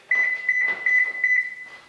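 A car chirps a quick series of short, bright electronic beeps close by as it is unlocked and its alarm disarmed, followed by a faint click.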